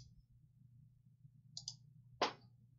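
A computer mouse clicks in video editing software, a couple of faint, soft clicks followed by one sharper, louder click near the end against quiet background hum.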